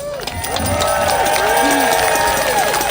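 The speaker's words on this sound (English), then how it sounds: "So I'd say a big cheer for each and every one of you." Crowd at an outdoor freedom rally in Bristol in May 2021, a sustained, loud wash of cheering and shouting voices with whistles rising over several seconds.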